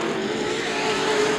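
A late model stock car engine drones steadily as the car runs at speed around the Anderson Speedway track, a loud, sustained buzzing roar close by with no voices.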